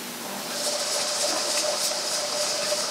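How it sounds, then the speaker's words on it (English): Steam venting from a pressure canner during home meat canning, a steady airy hiss that builds and holds at moderate level, with a faint tonal whistle underneath and no talking. "So we've got some steam coming out."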